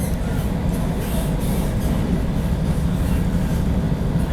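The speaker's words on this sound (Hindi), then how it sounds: "ये देखो बगल में ये कुंभ एक्सप्रेस निकल रही है" Kumbh Express train rushing past alongside on a neighbouring track, heard from a moving Patna–Howrah Vande Bharat: a steady, loud, dense rumble and rattle of wheels that holds unbroken from start to finish with no talk.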